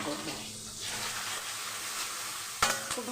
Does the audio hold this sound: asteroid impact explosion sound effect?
no